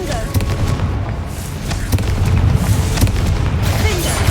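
Dense rumbling booms and crackling blasts from repeated Confringo fire spells in Hogwarts Legacy, loud and continuous with sharp transient bursts layered over a low roar.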